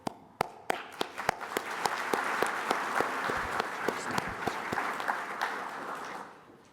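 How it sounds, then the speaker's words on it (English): An audience at a towing museum hall of fame ceremony claps, opening with a few sharp separate claps that swell into sustained applause, then fade near the end. "And they deserve a great applause"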